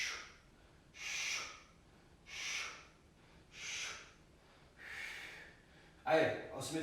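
Heavy, rhythmic breaths during a HIIT core plank workout, about five forceful exhales spaced a second or so apart, close and breathy.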